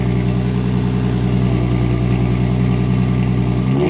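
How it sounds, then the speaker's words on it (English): A Nissan G35 with a newly fitted exhaust idles steadily and loudly close by, a deep even rumble with no revving until a slight change at the very end. "So it just started first time with the new exhaust."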